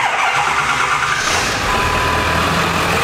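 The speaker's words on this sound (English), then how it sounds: "We're gonna get this truck fired up and get it pulled out of here." A Ford 7.3 truck engine cranks and fires up in a cold, snowy setting, loud and close, with a rising rumble that settles quickly into a steady run.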